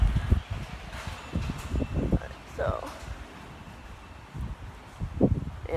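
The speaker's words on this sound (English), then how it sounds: "It is really windy right now." Gusty wind buffets the microphone in repeated low rumbling bursts, with a voice speaking intermittently over it outdoors.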